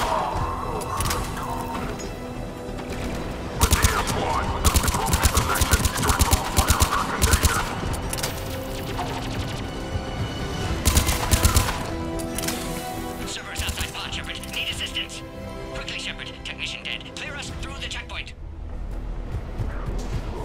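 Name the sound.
gunfire in a firefight, from the video game Mass Effect Legendary Edition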